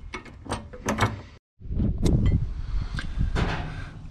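A ratchet tightens a 17 mm bolt on a sway bar mount during a car's suspension install, heard as close, quick clicking bursts with a brief pause in the middle.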